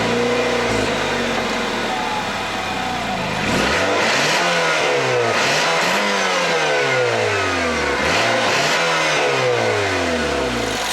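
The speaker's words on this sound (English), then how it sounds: "This is the company's 2-liter 4-cylinder engine." A 2018 Nissan Rogue Sport's 2-liter four-cylinder engine runs at idle, then is revved repeatedly in loud rising-and-falling sweeps, close and alone with no talk.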